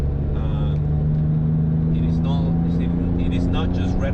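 A 1999 Porsche 911 (996) driving along: a steady, close engine drone with a low rumble and a constant pitch throughout, heard from inside the car with faint voices in the background.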